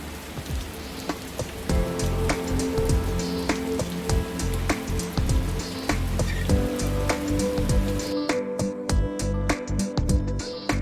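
Heavy rain pours down during the rainy season in Indonesia, a dense, continuous hiss of drops striking surfaces, steady and close throughout with no voices.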